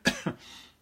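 Two quick dry coughs come close together, followed by a short breathy exhale, close and fairly quiet during an art lesson on painting with acrylic ink.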